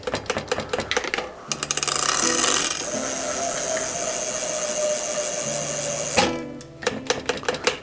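A ratchet cranks down the brake cable anchor bolt on a Gary Fisher bicycle, heard as quick rhythmic clicking bursts at the start and end, with a steadier mechanical whir in between.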